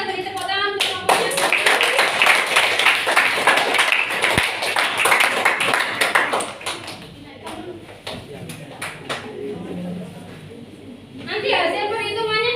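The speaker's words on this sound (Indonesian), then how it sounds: "Silakan kita beri tepuk tangan untuk kelompoknya" Students in a chemistry classroom clap for a group heading to the front, a burst of applause over the first few seconds that thins into scattered claps amid chatter and voices.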